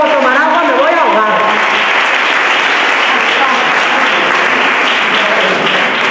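A theatre audience at a live stand-up monologue breaks into loud, sustained applause, a dense wash of clapping that fills the room throughout, with a voice briefly heard at the start.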